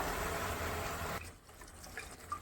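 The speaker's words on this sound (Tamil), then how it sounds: "இப்போ வந்து மிக்சியில் இன்னும் கொஞ்சம் தண்ணி போட்டு இதில் ஆட் பண்ணுறேன்" Water pours steadily from a mixer jar into a pot of sambar, a loud gushing stream that cuts off after about a second. Softer splashes and clinks follow.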